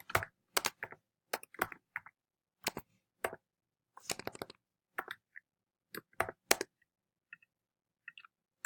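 Keys clacking on a computer keyboard in short bursts of quick taps separated by brief pauses, close and fairly quiet with no talk.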